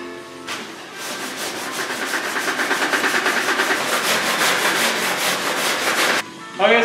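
Steady hand sanding of a car body panel during paint prep, a loud continuous rhythmic rasp of strokes close by, ending abruptly before a brief final scrape.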